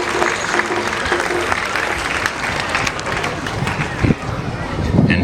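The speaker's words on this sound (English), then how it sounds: "And I want you to give them a round of applause." Audience applause for the Stelling Foundation at a school commissioning ceremony, a sustained round of clapping from a crowd with voices mixed in underneath.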